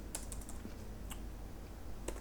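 Quiet clicks of a computer keyboard as code is typed, a few quick keystrokes at the start, a single tap near the middle and another burst at the end, faint and close with no talk.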